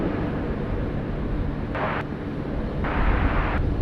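An Airbus A330 jet passing at Sydney Airport, a steady broad roar heard from a distance and holding throughout, with a couple of brief sharp changes in the rushing noise.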